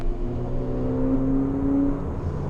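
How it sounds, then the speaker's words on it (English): A Mercedes-AMG GLA 45 turbocharged engine revs under throttle through a curve, a steady droning hum with a rising whine as the turbos spool, heard from inside the car. "I was throttling at the curve and the turbos are spooling"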